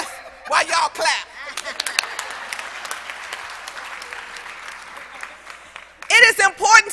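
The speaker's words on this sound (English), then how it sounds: "Let me stand back and take a breath while y'all clap." Audience applause for a keynote speaker, a loud, sustained wash of clapping that swells and holds for several seconds, framed by the speaker's voice before and after.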